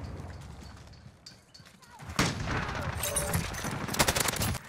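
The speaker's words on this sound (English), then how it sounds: "Oh, I don't even know where I got sniped from." Gunfire rings out in a Modern Warfare match, with bursts of shots and impacts growing louder in the second half, mixed with speech.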